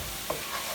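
Flour stirs into a sizzling roux for beef stroganoff, a brief, close, steady hiss of frying in the pan with a faint scrape of the spoon partway through.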